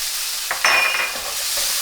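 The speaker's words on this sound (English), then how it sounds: "Give that all a good little stir here. Crisp it all up pretty nicely" Chickpeas and pitted green olives crisping in a hot pan are stirred with a brief scrape, under a steady soft sizzle.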